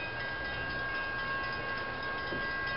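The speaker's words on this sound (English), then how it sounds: "Yeah, looks like it's a work train, all right." A CSX work train rolls past, a steady, continuous rumble of rail cars and engine holding at an even level throughout, with no voices.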